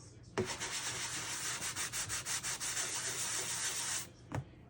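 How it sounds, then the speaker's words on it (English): A painted drywall patch is sanded by hand in a rapid series of close, rhythmic rasping strokes that then run into a steady scrub. The sanding stops abruptly, and one last short rub follows. "when you sand, like if I sand this area"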